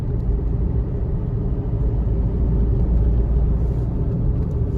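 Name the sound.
Hyundai i20 cruising in 6th gear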